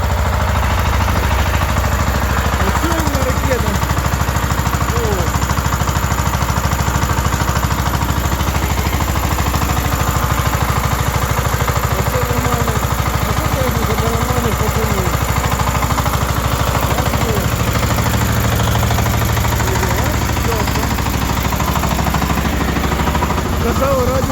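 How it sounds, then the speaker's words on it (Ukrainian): A steady tractor engine drones continuously at close range, a low rumbling hum with faint voices talking over it. "Це такий трактор."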